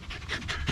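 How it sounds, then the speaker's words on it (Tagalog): A dog pants in quick, breathy rhythmic huffs at close range near a rural fish pond, a short burst with no talking over it. "Ang daming aso dito ah."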